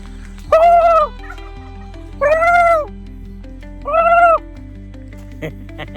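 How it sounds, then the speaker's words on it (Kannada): Turkeys gobble loudly three times in evenly spaced bursts, close by, against a low steady background hum on the road to Hampi. "ಇಲ್ಲಿ ನೋಡಿ ಟರ್ಕಿ ಕೋಳಿಗಳು"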